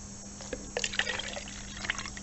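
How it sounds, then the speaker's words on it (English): Water poured from a container into a measuring jug over a tea towel, giving a soft, faint trickle and splash that rises and falls over a couple of seconds under a steady background hum. "I'm going to start to pour in"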